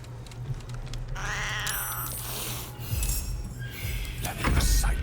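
A cat meowing in the video game Baldur's Gate 3, a couple of short mews amid game sound effects and background music, fairly clear in the mix.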